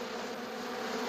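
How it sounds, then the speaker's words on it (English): A swarm of bees gives off a dense, steady buzzing drone that fills the whole moment without pause, and no voices are heard. "Now we're just waiting for the bees."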